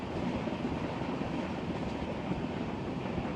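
A passenger train ride in India on a commuter route toward Kochi, with a steady dense rumble of wheels and carriage noise filling the whole stretch at constant loudness, no voices.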